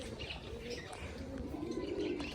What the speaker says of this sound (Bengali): ওখানে দেখুন একটা পায়রা মিটিং করছে